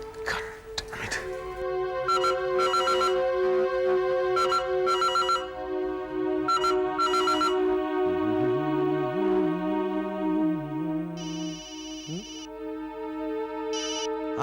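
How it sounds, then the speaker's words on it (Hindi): An office telephone rings on and on without being answered, a bright repeating electronic trill in short bursts, with a tonal backing and other sounds layered underneath. "शैलेश ऑफिस के फोन कोई उठा क्यों नहीं रहा है?"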